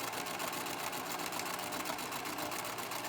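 Sewing machine running a regular straight stitch to hem fabric, a continuous fast needle chatter that stays steady and close throughout.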